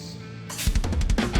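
A quiet, filtered chorus of clean guitar and vocals through RC20 on a heavy shoegaze track: muffled and dull at first, then opening into a brighter, fuller mix with pulsing low thumps.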